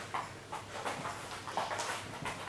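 A dog whimpers and yelps in short repeated bursts, moderately close, against a steady background hum during a home workout session.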